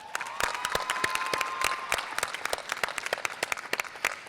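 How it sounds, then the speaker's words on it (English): Audience applause at a Syracuse University School of Education convocation ceremony, a steady wash of many hands clapping with a few sharp nearby claps standing out, plus a faint sustained tone in the background. "please extend a round of applause"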